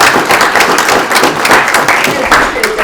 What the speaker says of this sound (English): And another round of applause for the candidates.